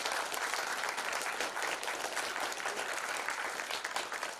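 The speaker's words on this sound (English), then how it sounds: "Give yourselves a round of applause." Sustained applause from a youth sports crowd at a 12U national championship media day, dense and even clapping filling the whole stretch without a break.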